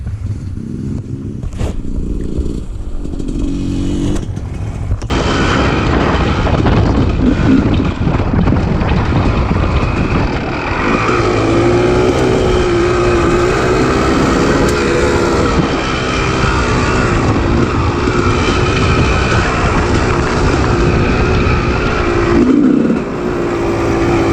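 A dirt bike engine roars loudly and steadily while riding, revving and holding pitch with wind buffeting the microphone, easing off near the end.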